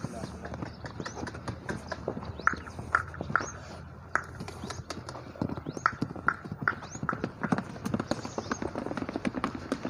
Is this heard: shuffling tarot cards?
no